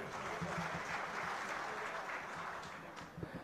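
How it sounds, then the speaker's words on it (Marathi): Steady, dense clapping from an audience at a felicitation ceremony, loud and sustained throughout, with a few sharper individual claps standing out near the end and no talking over it. "जोरदार टाळ्या वाजल्या पाहिजेत."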